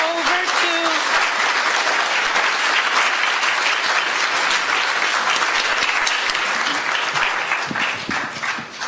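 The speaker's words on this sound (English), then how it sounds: "Let's give them another round of applause." Loud, dense applause from a conference audience honouring a panel, sustained for several seconds and tapering slightly at the end, with a brief voice near the start.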